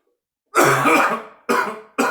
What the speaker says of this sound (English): if I could quit coughing long enough